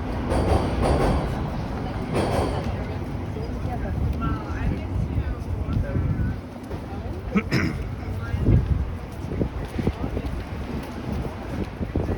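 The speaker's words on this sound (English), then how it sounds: "When I hear the subway rumbling underneath me." Low, steady rumble of a Toronto subway train passing underground, continuous through the clip with a few faint clanks above it.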